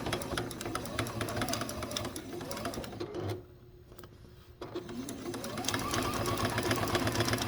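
A sewing machine top-stitches through a vintage quilt being made into a brush roll, a close rapid mechanical whir that stops briefly in the middle, then starts again and runs faster and a little louder.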